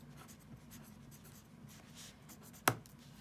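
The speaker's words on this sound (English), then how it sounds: "I'm going to write my table of contents" A pen scratches faintly and steadily on paper as a table of contents is written out by hand in a math notebook. One sharp tap comes near the end, and no voices are heard.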